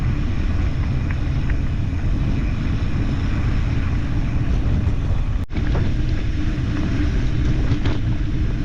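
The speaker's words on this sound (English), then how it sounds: "Also got a headwind, so not an easy push here." Steady, loud wind roars against the microphone while bikepacking into a roughly 15 mph headwind on the Huracan300 loop in Central Florida, a continuous low rush broken by one brief dropout, with no talking.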